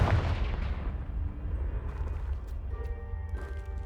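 A Confringo fire spell goes off in a Harry Potter video game with a heavy, booming blast up front that rumbles and decays, followed by faint ringing debris tones.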